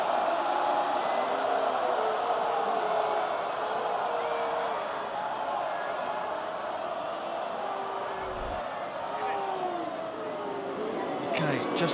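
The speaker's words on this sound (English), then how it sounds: "Crowd are willing on the umpire here to say yes." Cricket crowd at The Hundred urging the umpire: a sustained, loud roar of spectators' shouting and appeals swells steadily, with commentators talking over it.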